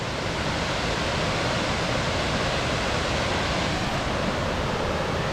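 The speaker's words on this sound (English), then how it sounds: "waterfall." A waterfall on a hiking trail in Morialta Conservation Park, Adelaide, gives a steady, dense rush of falling water that fills the whole scene without a break. No voices are heard.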